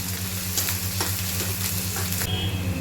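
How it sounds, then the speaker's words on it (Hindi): Finely chopped onion sizzling in hot oil with cumin, a continuous close frying hiss with repeated soft stirring strokes, no one talking. "प्याज को हम भून लेंगे"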